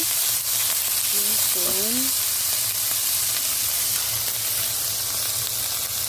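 Finely chopped garlic sizzles in a frying pan of leftover bacon fat, a steady close hiss with a low hum underneath and a short spoken word near the middle.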